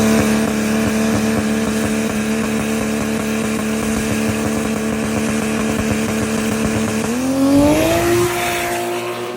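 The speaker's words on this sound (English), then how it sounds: "My car finally gets going." A drag racing car launches and accelerates hard down the track, its engine a loud, sustained roar that climbs in pitch, with a sharp gear shift near the end and no talking.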